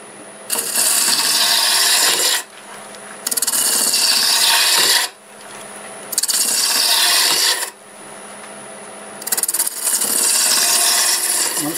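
Red cedar spinning on a wood lathe is cut back in four long passes, each a loud, bright scraping rasp lasting a couple of seconds, separated by brief lulls where only the lathe's hum remains.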